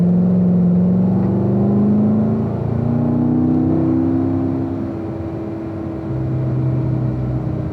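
A car on a driving course accelerates with a loud, steady engine drone whose pitch rises in stages through the gears, close and continuous.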